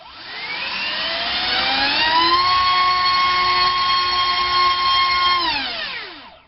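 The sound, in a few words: DYS 2205 2750kv motor with HobbyKing 5x4 3-bladed prop, thrust test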